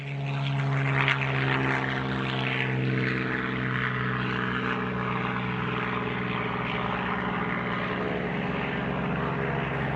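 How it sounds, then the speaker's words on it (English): Piston engines of a Supermarine Seafire 3 and a Goodyear FG-1D Corsair drone steadily at an air show, a loud continuous propeller roar with strong low harmonics that holds throughout without talk. "The first pair, the Supermarine Seafire 3 and the Goodyear FG-1D Corsair."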